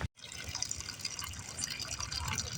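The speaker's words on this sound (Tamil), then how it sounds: "இதோ பியூர் வாட்டர் அவுட்புட்டு." Purified water pouring steadily from the output line of a 250 LPH reverse-osmosis plant, a continuous splashing, gushing stream heard up close and alone with no voices.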